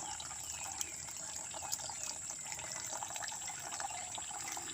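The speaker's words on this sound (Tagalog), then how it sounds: "Ayan po, nagigib ng tubig." Water runs steadily while someone fetches water at a rural mountain home, a continuous bright splashing flow without pauses or voices.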